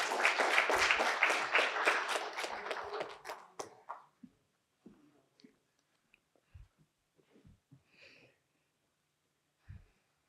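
A panel audience claps for a speaker, a dense round of applause that fades out after about four seconds, leaving only a few scattered claps and quiet room noise.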